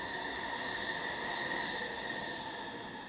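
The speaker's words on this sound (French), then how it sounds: "on va laisser le métro passer" A metro train rolls past nearby with a steady, loud rumble and a high metallic wheel whine that holds throughout and eases slightly at the end; no voices.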